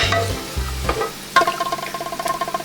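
Instant noodles hit by hot oil being poured over them, a loud close sizzle opening with a burst and settling into a rapid, pulsing crackle, with no talking.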